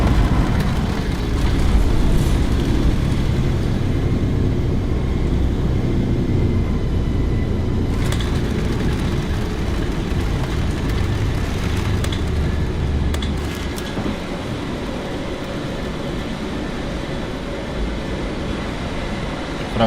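Airbus A321 airliner on its takeoff roll from Kayseri, a steady loud engine roar and low rumble from inside the cabin, continuous for about twenty seconds with a slight easing toward the end.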